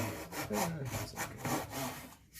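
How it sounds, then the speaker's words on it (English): Thick-bladed fret saw cutting Purple Heart wood with quick, rasping back-and-forth strokes, close but moderately quiet. "Cut down with this, what was supposed to be a fret saw, but, yeah, it's way too thick."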